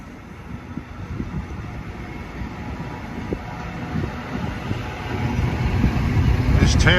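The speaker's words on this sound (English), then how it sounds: "Heading westbound at 410 is train 1759 from West Hempstead to Atlantic Terminal" LIRR train 1759, westbound from West Hempstead to Atlantic Terminal at Valley Stream, approaches from a distance as a low rumble that slowly grows louder under wind noise, ending with a brief high squeal.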